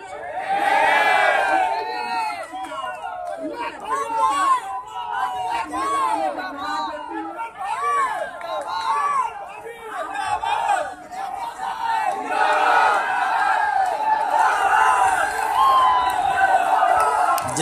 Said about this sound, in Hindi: जनता की तालियों की गड़गड़ाहट